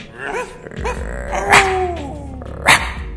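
Dogs bark in a parking lot, close and loud: a couple of sharp barks break through a mix of growls and whimpering sounds that run throughout.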